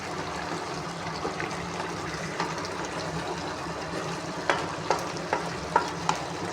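Chicken with potatoes and turnips fries in a pan with a soft continuous sizzle, while a utensil stirs and knocks several times, the scraping taps growing more distinct toward the end.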